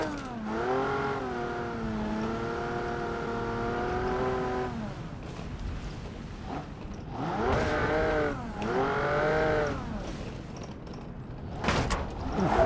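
A Baja buggy engine revs on a competition course as the wheels lose traction, its tone holding high, then surging and dropping in repeated swells. The sound is fairly close and loud, ending with a few sharp knocks, with no talking.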